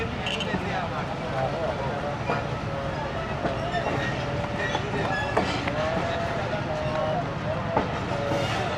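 The Ghouri Express pulling out of a station between Faisalabad and Lahore, a continuous rumble of rolling carriages with rhythmic wheel clatter and squeals, heard from inside the train amid background chatter.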